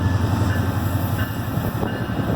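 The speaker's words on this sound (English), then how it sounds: "there's the inbound 91 line, which we're not getting on" A Metrolink commuter train rolls through a curved section of track at a station platform, a steady loud rumble of wheels and rail noise lasting throughout with no voices.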